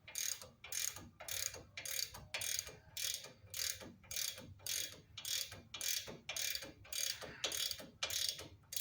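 A hand ratchet tightens bolts on a Rough Country lowering kit fitted to a 2008 Chevy Silverado, clicking in quick, even bursts of about two per second, close by and with no talking.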